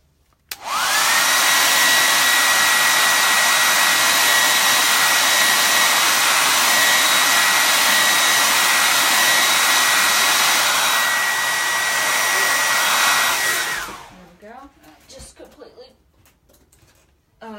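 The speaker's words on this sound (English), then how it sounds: "With the hairdryer." A hair dryer roars steadily at close range for about thirteen seconds, then cuts off, leaving faint rustling and movement.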